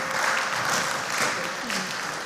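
Moderately distant clapping from an audience at a school academic competition, a steady patter of many hands sustained for a couple of seconds.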